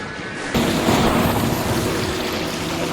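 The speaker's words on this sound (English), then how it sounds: "The lightning is shared from the same lightning sound effect in Black and White." Lightning strike sound effect shared by the Fable and Black and White video games, a sudden loud crack followed by a sustained rumbling roar with rain-like hiss, heard alone without talk.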